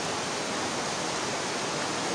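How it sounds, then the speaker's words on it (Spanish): Heavy rain pours down steadily outside a home with a small sitting room and kitchen, a dense, continuous hiss filling the whole stretch without a break and with no talking. "Está cayendo una lluvia, pero de pares, señor nuestro. Esto sí que lluvia."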